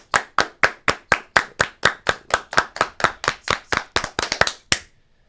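About twenty sharp single hand claps in an even, brisk rhythm, loud and close, speeding slightly into a quick flurry near the end before stopping into silence.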